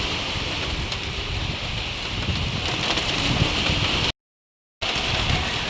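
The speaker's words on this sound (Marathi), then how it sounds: "जोराचा पाऊस येतोय आपल्याकडे" Heavy rain pours steadily as a dense, broadband hiss during a nearby thunderstorm with lightning, falling without pause for several seconds before a brief dropout, then resuming; no voices.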